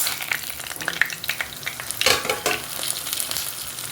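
Whole coriander seeds, urad dal and dried red chillies roast in hot coconut oil, giving a steady close sizzle with scraping stirs and a louder burst of crackling midway, with no voices.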